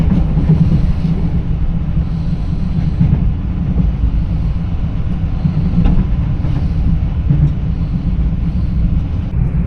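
A passenger train between Sydney and Melbourne heard from inside the carriage, a steady loud low rumble with faint rhythmic clunks from the track and no talking.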